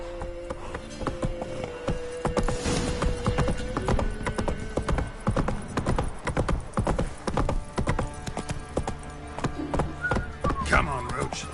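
Roach the horse trotting in The Witcher 3, a steady clip-clop of hooves carrying through the whole stretch, with a voice talking over it.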